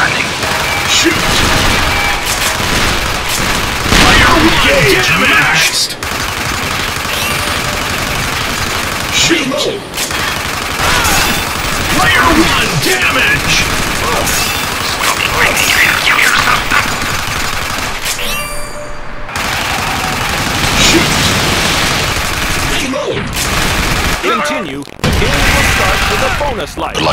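Heavy automatic gunfire and booms from the Rambo arcade shooter, continuous loud machine-gun rattles with explosive hits and short breaks, a voice speaking over the action at times.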